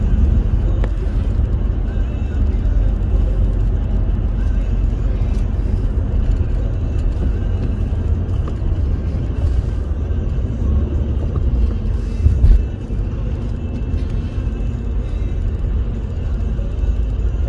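A BMW xDrive 320d diesel with about 290,000 km, fresh from a timing chain replacement, is on a test drive, heard from inside as a steady low rumble of engine and road noise with one brief knock partway through.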